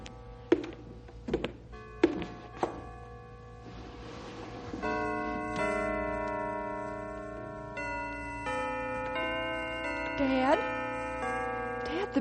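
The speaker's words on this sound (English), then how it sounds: "Listen, the bells. They're working again." Christmas bells ringing, a sustained chiming peal of several tones that swells and overlaps, somewhat distant, after a few knocks and thumps at the start, with people talking over part of it.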